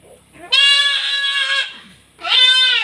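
A young goat kid bleats twice, close and loud, with a long wavering cry and then a shorter second call after a brief pause.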